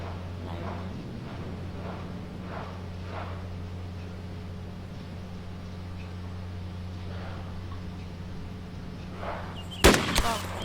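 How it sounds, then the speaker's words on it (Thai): Gunfire in the video game DayZ: one sharp, loud shot rings out near the end over a steady low hum, with faint scattered pops in the background before it. "โหปืนลั่นอีก"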